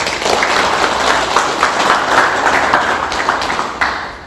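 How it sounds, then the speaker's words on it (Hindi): Sustained applause from an audience at an All Odisha Dudhkhadia community gathering for Nuakhai, dense steady clapping filling the whole stretch, fairly loud and close, with no talk over it. "जोरदार ताली से तांको धन्यवाद"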